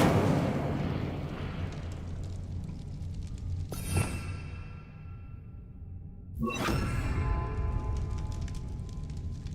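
An Incendio fire spell cast in Hogwarts Legacy bursts out twice, each a loud whooshing, explosive flare of flame rising above a steady rumbling game ambience.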